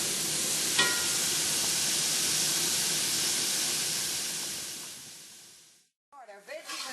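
Vegetables such as green peppers sizzling in olive oil in a pan used before for hamburger, a loud steady frying hiss that fades out, followed by brief stirring sounds.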